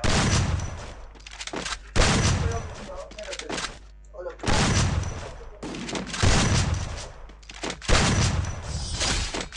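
Shotgun fire in a PvP shooter game, with loud booming blasts every couple of seconds, each followed by a decaying tail and mechanical clatter, with a voice talking in between.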